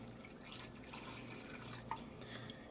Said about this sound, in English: add some water just to cover the bottom